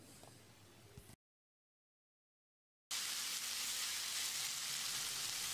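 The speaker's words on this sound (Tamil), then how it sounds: "அளவான தீயில 1 நிமிஷம் கத்திரிக்காயை நல்லா வதக்கி விட்டுடலாம்." Brinjal sautés in a pan over medium heat, a dense steady sizzle heard close up, with a short low stretch followed by a sudden gap of silence before the frying resumes loud and continuous.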